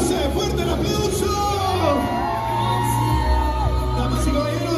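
A crowd at a quinceañera party cheers, whoops and shouts continuously, a loud festive roar of voices under music, with a few sustained yells rising over the mass.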